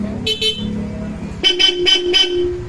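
A Bosch Europa horn fitted to a motor scooter sounds in a short pair of blasts, then a quick run of three or four close, loud toots over a low idling engine.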